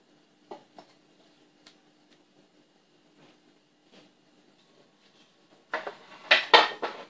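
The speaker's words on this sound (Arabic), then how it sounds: "غادي ناخذ واحد المقله" A metal frying pan is picked up and set down in a home kitchen, a few faint isolated clinks at first, then a louder cluster of clattering metal knocks near the end.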